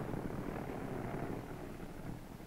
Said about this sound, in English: Director signals hook up, close flaps, and starts plane up the deck